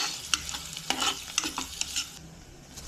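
A spoon scrapes and stirs chicken liver and gizzard adobo with garlic in a hot pan, giving sharp irregular clacks over a soft sizzle, close and without speech.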